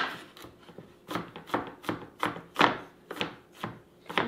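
A knife coarsely chops peeled garlic cloves on a board, giving a steady series of about a dozen crisp, close thuds in an even rhythm with no talking.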